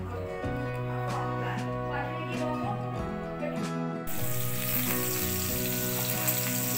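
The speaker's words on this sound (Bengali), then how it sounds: "তোমরা তো দেখতেই পেলে আলুগুলো আমি ভেজে নিচ্ছি লাল করে" Potatoes frying in hot oil in a home kitchen, a steady broadband sizzle running throughout and growing brighter midway, with background musical tones layered underneath.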